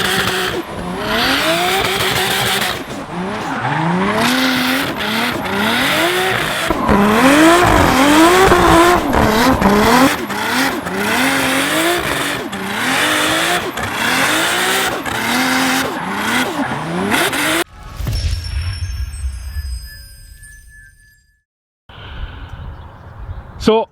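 A Nissan Skyline R33 with its RB26 engine drifts hard, tires squealing and engine revving loud and continuous for most of the stretch, then cuts off abruptly into quieter sounds near the end.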